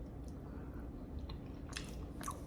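Chewing on a Norwegian armed forces arctic ration meal with green peas and carrots, close soft wet biting and mastication sounds in steady repeated bursts, quiet and alone with no talking.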